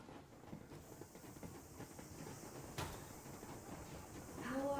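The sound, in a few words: steam locomotive train moving in video game Metro Exodus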